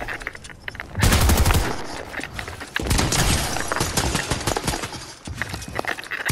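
A Havoc assault rifle in a video game fires loud, sustained automatic bursts, broken by brief pauses, with little talking.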